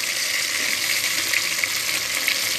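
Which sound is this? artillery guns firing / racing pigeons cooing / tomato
tomato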